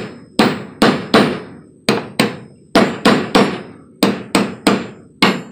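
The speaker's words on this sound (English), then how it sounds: "Gotta hit it with the hammer." Repeated sharp hammer blows on metal while installing an equipment rack on an open trailer, landing in quick bursts of two or three with short pauses between, loud and close with no talking.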